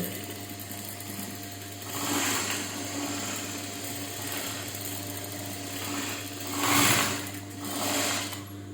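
A tailoring sewing machine stitches fabric with a steady, close mechanical whir that runs throughout, swelling louder in a few brief bursts as the stitching speeds up.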